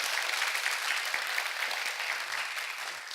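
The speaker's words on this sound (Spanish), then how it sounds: "¿Puedes darle un fuerte aplauso al Señor?" A church congregation applauds together, a dense, steady wash of clapping that holds at an even level throughout, with no talking over it.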